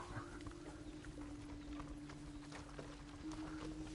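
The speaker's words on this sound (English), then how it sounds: "Called the horse Ringo" Steady clip-clop of horse hooves at a walking pace in the video game Ghost of Tsushima, over a constant low hum and background noise, with no talking.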